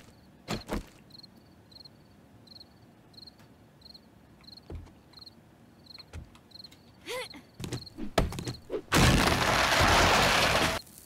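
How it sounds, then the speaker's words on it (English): Crickets chirp in short regular bursts through a nighttime scene in the 7 Days to Die video game, fairly faint, broken by scattered digging thuds and knocks and ending in a loud burst of noise. "I know it's nighttime. I can hear the crickets."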